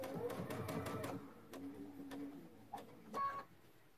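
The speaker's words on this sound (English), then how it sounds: "I'm going to stitch a few inches or a few stitches." A sewing machine runs a short burst of rapid stitches through quilt fabric, then stops, leaving a few faint clicks and light handling noises close by.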